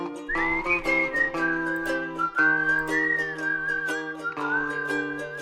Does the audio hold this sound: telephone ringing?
no